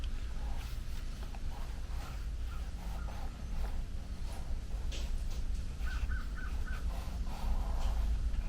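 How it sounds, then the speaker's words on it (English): Crows and other birds call outdoors on a peaceful morning, scattered caws and chirps near and far over a faint steady background hum, with no talking. "the birds are talking outside"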